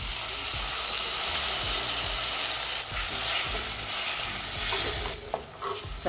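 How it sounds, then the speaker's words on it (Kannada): Medium-size tomato softening in hot oil in a pan for sambar, stirred with a spoon: steady close sizzling and frying hiss with repeated scraping and clinking strokes throughout, no talking. "ಒಂದು ಮೀಡಿಯಂ ಸೈಜ್ ಟೊಮೆಟೊ, ಟೊಮೆಟೊ ಸ್ವಲ್ಪ ಮೆತ್ತಗಾಗಲಿ."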